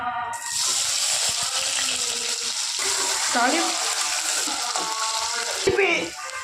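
Steady loud sizzling of onions frying in hot oil, with occasional stirring scrapes, close and continuous.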